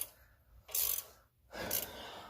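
A 1/4 inch ratchet loosens coil pack bolts on a 1999 Ford F-150 4.6L, making two short, close metallic clicking bursts separated by a brief pause.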